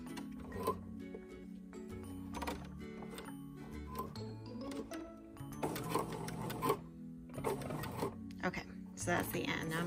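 A sewing machine backstitches fabric across the front of a V-neck dolman top, its mechanical stitching running in short bursts over roughly ten seconds beneath steady tonal background sound.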